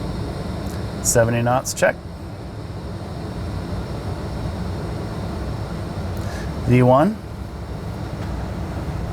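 Aircraft engines at takeoff thrust roar steadily through the takeoff roll, a constant broadband rush heard under brief cockpit callouts.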